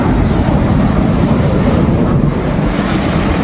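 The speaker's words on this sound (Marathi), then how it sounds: "हे बघा ही लाट जोरात उडणार वाटते" Heavy sea waves crash against rocks at an unexplored rocky point, making a loud, continuous roar of surf and spray with wind buffeting throughout, no pause between surges.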